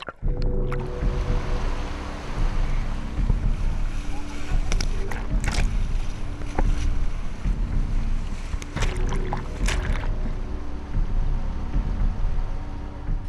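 A boat travelling up a shallow river in the Philippines, its steady engine drone and churning water filling the whole stretch, with wind buffeting the microphone and occasional louder knocks and splashes.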